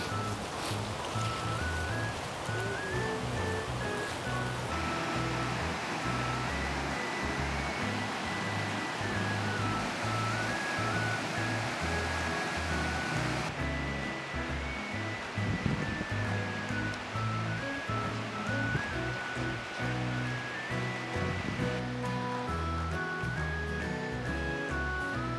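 A mountain stream runs down from Tateshina Otaki waterfall along a forest walking trail, a steady close rushing and gurgling of water that continues unbroken and fairly loud, with no voices.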